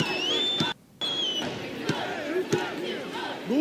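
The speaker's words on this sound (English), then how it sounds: "Thanks for clapping for me, guys." Video game crowd in NBA 2K16 basketball, a steady arena roar of cheering with whistle-like tones and a brief dropout, punctuated by a few sharp thumps that may be ball bounces.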